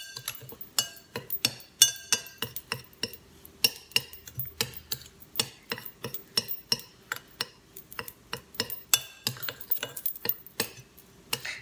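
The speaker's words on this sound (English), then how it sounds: "Give this a mix." A mixture being stirred in a glass or bowl, a rapid series of light clinks and taps as the utensil knocks against the sides, fairly close and without speech.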